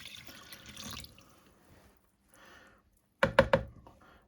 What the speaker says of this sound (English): I filled about 700 ml of water